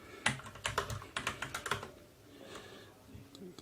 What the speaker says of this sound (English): I have a bad keyboard.